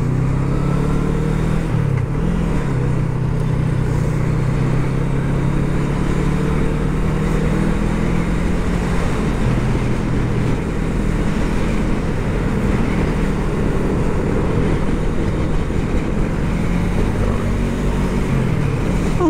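A 500cc big bike motorcycle engine hums steadily while riding, a continuous low drone with wind rush that holds an even level throughout.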